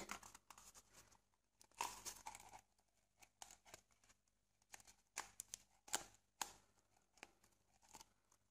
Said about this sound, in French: La dernière étape consiste à plier le haut du papier toilette.